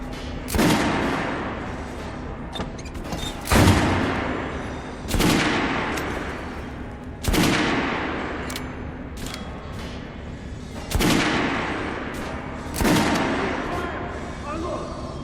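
Guns fired at a shooting range in Metro Last Light, with about seven loud, sharp shots at irregular intervals of two to three seconds, each followed by a decaying echo, and faint voices around them.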